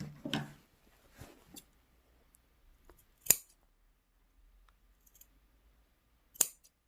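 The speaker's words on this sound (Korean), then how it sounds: "곡선인 부분 가위집 좀 주겠습니다" Sewing scissors snip notches into the curved seam allowance of a handmade fabric bonnet hat, giving a few sparse, crisp cuts spaced apart with quiet pauses between them.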